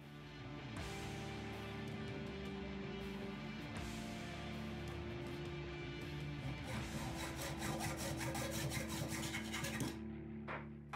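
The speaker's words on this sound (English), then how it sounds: "used a Sharpie to mark it, and then cut it down to size with a hacksaw." Hacksaw cutting a miter gauge knob to size, a steady close rasping saw stroke throughout that turns faster and harsher toward the end.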